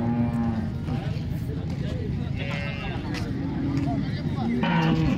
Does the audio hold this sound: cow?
yes